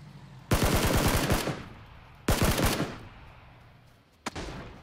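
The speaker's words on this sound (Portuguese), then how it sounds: "Da onde estão me atirando?" Automatic gunfire in the video game PUBG: three bursts of rapid shots, the first two long and sharp, the last a brief crack, all loud against a quiet ambient background.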